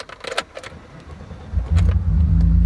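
A used BMW car's engine cranks and catches about halfway through, settling into a loud, steady idle, with a few metallic jingles like keys just before.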